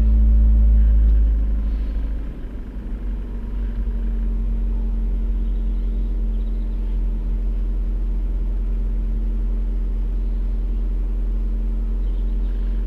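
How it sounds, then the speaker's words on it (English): A car engine with a P0420 catalyst fault code, connected to a diagnostic scanner, starts with a loud low thump. It then settles into a steady, droning idle as it warms up, close and continuous, with no speech. "Start the car."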